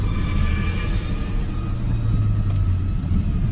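Rare V6 car accelerating out of a bend, a steady close engine rumble rising slightly in pitch as it pulls away, heard from inside with no talking.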